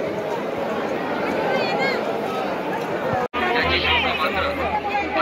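Thick, close crowd chatter fills the whole stretch, a loud and constant hubbub of many voices, broken by a brief sharp dropout before the babble resumes.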